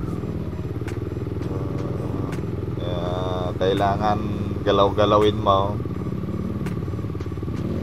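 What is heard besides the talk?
motorcycle engine straining, stuck on rocks on a trail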